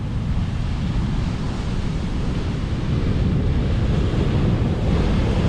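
Sea waves roll in over a stony beach on the Holderness coast, a constant loud wash and rumble of surf with wind buffeting the microphone and no voices.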